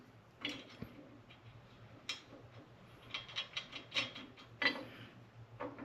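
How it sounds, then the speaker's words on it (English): Mounting screws are driven by hand for a ROPS light kit on a 2024 Bad Boy Renegade mower, giving quiet, close ratcheting clicks in short irregular bursts. "screw this in, and I'm just going to screw them in loosely"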